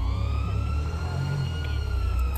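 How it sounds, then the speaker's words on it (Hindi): A police car siren wails in GTA 5, its rising and falling electronic tone steady and fairly loud over a low rumble of in-game traffic, with no voices. "पुलिस की गाड़ी बाहर घूम रही है यार"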